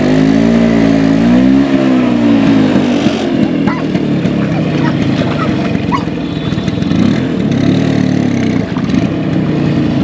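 A motorbike revs hard while being ridden through a river off-road, its loud, close engine wavering up and down in strained bursts and held in a continuous, labouring drone throughout.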